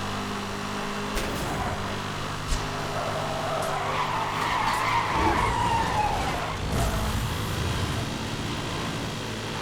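A Koenigsegg in Need for Speed: Hot Pursuit skids with a drawn-out tire screech over a steady engine drone, the squeal rising and sweeping in the middle, with a few sharp impacts.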